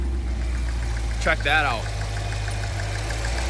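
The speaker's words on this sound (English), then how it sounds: "Nothing like a little bit of a knock in the engine here" A brand-new Cadillac Escalade-V with only 18 miles on it idles with an engine knock, a steady low rumble that runs throughout, while someone speaks briefly over it.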